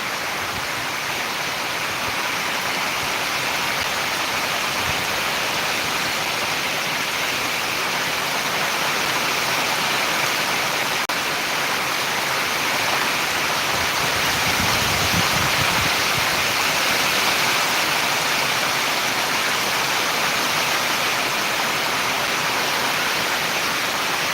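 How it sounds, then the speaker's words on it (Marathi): Heavy rain pours down on farm fields in Buldhana district, a dense, constant hiss that stays loud and unbroken throughout. "अगदी दहा ते पंधरा मिनटापासून पाऊस चालू झाला आहे"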